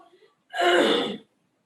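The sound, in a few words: throat clearing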